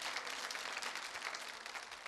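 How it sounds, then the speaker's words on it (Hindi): Audience applause for a contestant at a Holi quiz show, a continuous dense wash of clapping, faint and distant, steady from start to finish with no voices. "तालियां इनके लिए बजाइए जबरदस्त तरीके से"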